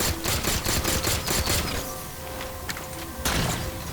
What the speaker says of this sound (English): I'm peppering him with a plasma pistol